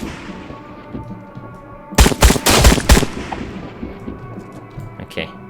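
Gunfire from a nightclub shoot-out in the Trans-Siberian Railway Simulator video game: a loud, close burst of rapid shots lasting about a second, set against a steady background hum, with quieter thumps afterwards.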